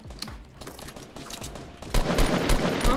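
Fortnite gunfire comes as quick, fairly close repeated shots, then grows into a louder, denser burst of rapid fire in the second half, with no voices.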